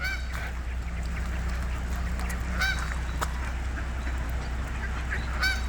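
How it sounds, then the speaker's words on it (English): Geese honk in a few short bursts beside a flooded river's rapids in Kalamazoo, over a steady low rush of water, with no voices. "I'm not going to scare off the waterfowl here. They're hanging up here for a reason."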